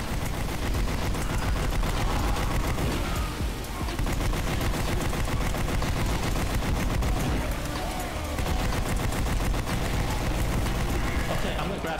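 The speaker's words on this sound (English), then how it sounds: "Keep shooting, keep shooting." Rapid, continuous gunfire from many weapons in a Team Fortress 2 zombie escape match, loud and dense throughout, with players talking over the shooting.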